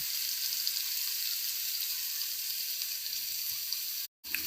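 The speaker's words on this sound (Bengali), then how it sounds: "এই ছানার মিশ্রণটাকে কিন্তু আমি এবার ভালোভাবে গ্যাসে নেড়ে নিচ্ছি" Chhana (cottage cheese) mixture cooking in a pan on a gas stove gives a steady close sizzle and hiss throughout, cut by a brief silent gap near the end, with no talk.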